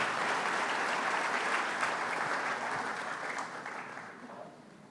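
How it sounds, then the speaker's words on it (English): Audience applause fills the hall at an environmental awards ceremony, a dense, steady round of clapping that slowly fades toward the end with no one speaking. "huge round of applause to all of you for being there"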